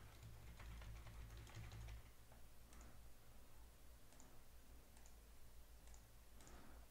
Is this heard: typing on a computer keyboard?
yes